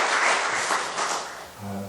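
Korean Methodist church congregation applauding at an Easter Sunday evening service, a short burst of clapping that fades within two seconds as a voice begins.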